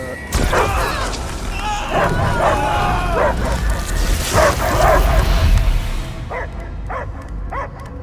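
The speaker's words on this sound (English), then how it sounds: "I hear only barking" Several barks and yips ring out over a dense, noisy Palworld or Guardians of the Galaxy game soundscape with rumbling effects, followed by a few sharper isolated barks near the end.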